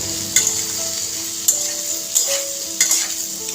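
Potatoes with salt and turmeric being stirred in a hot pan with a spoon, a steady oily sizzle broken by a few distinct scraping strokes of the spoon against the pan, close and clear with no voices.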